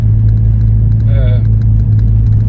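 A 1991 Volkswagen Golf GTI G60 cruises gently in fourth gear, its engine a loud, steady low drone with road rumble beneath, and a brief voice surfacing midway.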